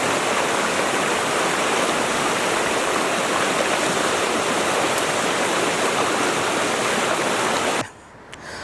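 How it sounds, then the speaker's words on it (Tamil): A river stream flowing downhill on a trek to a hidden waterfall near Natrampalli in Tirupattur, a dense, steady rush of water close by that stays loud and unbroken before dropping away abruptly near the end. "அந்த ஆறு வந்து கீழே போயிட்டுருக்கு"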